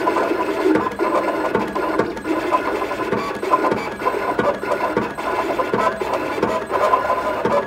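Janome Artistic Edge cutting machine drawing with a white pen on black card, a steady close mechanical buzz of motors and carriage movement with rhythmic clicks and shifts repeating throughout.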